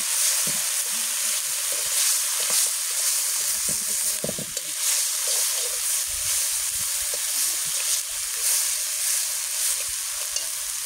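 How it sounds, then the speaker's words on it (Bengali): Spice paste with chilli powder and a green chilli frying in a pan over a gas flame, with a steady close sizzle and occasional stirring scrapes throughout, no talking. "ভাজা হইতে থাক মশলাটা"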